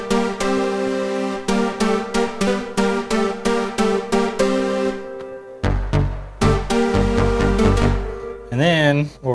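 A Moog One synthesizer plays several layered patches at once: a pulsing rich tone joined midway by deep booming bass notes, a dense close sound that ends with a warbling pitch-bent flourish, with no talking over it.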